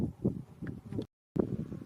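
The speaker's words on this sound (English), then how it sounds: "It's very windy out here, so hopefully the audio is alright." Gusts of wind buffet the microphone in low, rumbling bursts at a summit lookout in the Granite Belt, cutting out briefly before the blustery noise returns.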